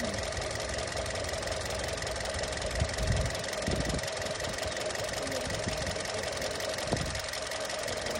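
A Kia Seltos engine running at a steady idle, a continuous close mechanical hum with a faint rhythmic ticking and a few brief low thumps, heard without talk.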